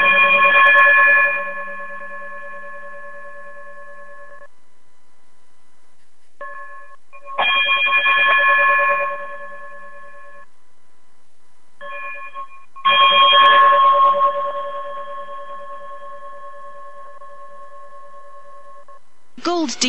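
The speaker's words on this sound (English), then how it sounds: "Brother Braggs, if you would be so kind and chime us out of here." A bright multi-tone chime rings out to close a radio show, three sustained strikes spaced several seconds apart, each ringing and decaying in the quiet, with a short final tone at the end.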